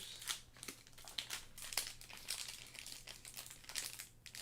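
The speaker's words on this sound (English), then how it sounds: "All right, scissors." Scissors snip and crinkle through a trading card pack wrapper in short, close bursts of crackly plastic, repeating irregularly with small pauses in between.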